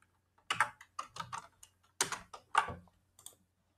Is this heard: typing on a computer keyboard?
yes